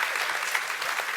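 A crowd claps steadily in a dense, continuous burst of applause, fairly close and even in loudness throughout.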